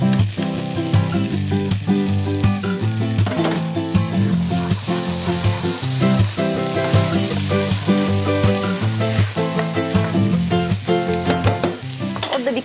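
Pine nuts and currants roasting in a pan for an anchovy rice pilaf, giving a loud, steady, close sizzle that runs unbroken throughout.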